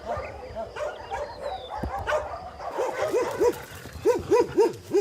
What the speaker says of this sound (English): we have about 400 dogs here living loose.